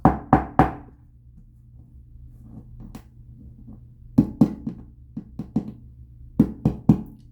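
Several sets of quick knuckle knocks on a hollow, thin wooden surface in a house, sharp and close, in short bursts separated by quiet pauses.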